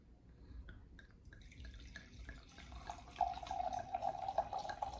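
Chardonnay poured into a cup, a thin trickle that grows into a steady bubbling gurgle, close and fairly quiet, with no talking.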